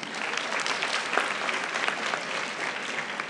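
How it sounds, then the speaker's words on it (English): A large audience at an investment seminar claps in a dense, steady round of applause that holds evenly for several seconds with no talk over it. "I think that deserves another big round of applause."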